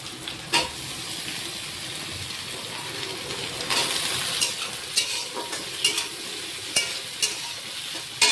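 Potatoes frying in a pan give a steady close sizzle, with occasional clinks and scrapes of a spatula against the pan.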